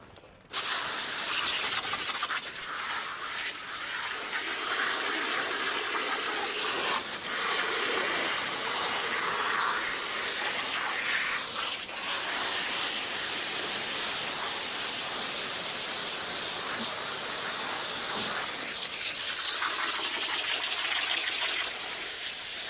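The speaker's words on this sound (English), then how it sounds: "I'm gonna spray all that off while it's still hanging" A hose sprays water in a loud, continuous hissing gush that holds steady, with the stream shifting slightly as it plays over a hanging, skinned deer carcass.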